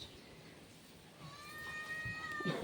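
A faint cat meow rises near the end, a soft drawn-out cry over quiet room background.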